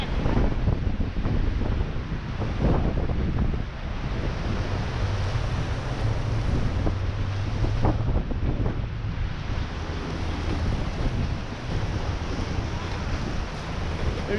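River rapids roar in Cataract Canyon at over 50,000 cfs during a rafting run, a loud continuous rushing wash of whitewater with steady wind buffeting the microphone.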